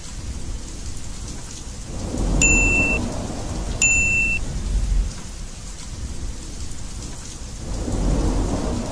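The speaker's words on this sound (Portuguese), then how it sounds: "Chuva, chuvinha. Não molha minha casinha." Steady rainfall hisses throughout while low thunder rumbles swell in several waves, two of them marked by brief bright chiming tones, with no voices.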